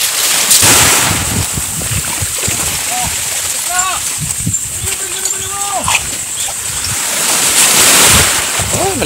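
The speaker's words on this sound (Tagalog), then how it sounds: "Malakas yung alon, guys" Strong sea waves splash and churn close by amid gusting wind buffeting the microphone, with brief voices speaking over the rough surf.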